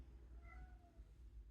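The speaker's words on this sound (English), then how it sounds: "Sorry if you hear my cat crying." A single short cat meow, faint and somewhat distant, rising briefly over a low background hum.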